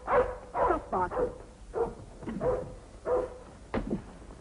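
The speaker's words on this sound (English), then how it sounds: "Hagen, be quiet. Stop barking" A dog barks in a series of sharp, moderately close woofs with short whimpering yips between them, about eight to nine bursts spaced irregularly in a quiet indoor setting.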